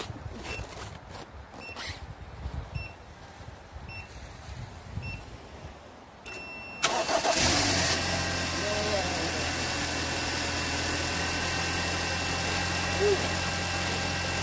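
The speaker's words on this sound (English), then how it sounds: "You have 10 seconds to start the car." Car engine cranking to life using a supercapacitor jump starter booster pack on a dead battery in frigid cold, after quiet handling noises, then settling into a steady, close idle hum.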